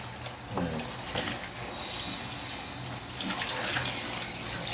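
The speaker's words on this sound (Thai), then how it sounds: "เปิดน้ำใส่เลย" Water runs from a tap into a basin holding laundry detergent for a stain-soaking test, a steady close splashing stream that fills the whole stretch.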